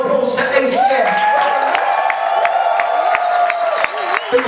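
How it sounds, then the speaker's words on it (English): Lively audience applause for ACM at a training event, with cheers, whoops and clapping swelling together in a loud, crowded room over several seconds. "can we please give a round of applause to ACM?"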